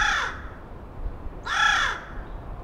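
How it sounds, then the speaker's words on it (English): Two loud, harsh caws from a crow in the trees at a natural history museum wildlife center, spaced about a second and a half apart, with no speech. "a crow named Rook"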